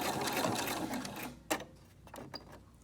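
A sewing machine back-stitches fabric for a homemade dust mask, a dense whirring run of stitches that stops, followed by a couple of short, sharper bursts as it reverses and sews again.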